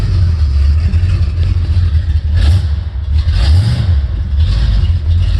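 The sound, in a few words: 1973 Chevrolet 454 engine revving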